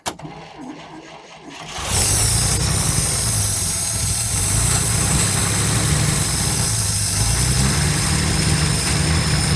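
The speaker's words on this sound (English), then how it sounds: "Hit the starter. See if we get it pumping." A 1947 International truck engine cranks briefly on its starter and then catches, settling into a loud, steady idle with constant rumbling and vibration, heard close up with no talk.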